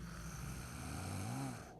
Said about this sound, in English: But the bear snores on.